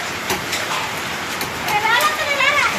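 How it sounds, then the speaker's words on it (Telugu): Hailstones rattle down in heavy rain at night in Khammam during the season's first rain, a dense, constant patter with sharper hits, while excited voices talk over it. "వర్షాకాలం రాళ్ళు పడుతున్నాయి ఫస్ట్ వాన ఇదే"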